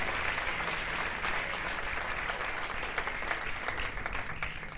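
A church congregation applauds the Lord during an evening service, dense sustained clapping from many hands at an even level throughout.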